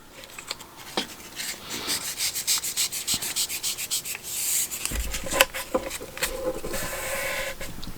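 Fingers are run firmly along the tops of folded paper strips, producing a series of close, repeated dry rubbing swishes with a rhythmic rise and fall, then a few scattered rustles and light taps.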